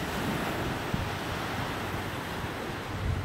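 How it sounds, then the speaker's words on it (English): Ocean surf rolls steadily under a morning breeze along the shore at sunrise, a continuous wash of waves with wind rumbling across the microphone. "listen to the waves"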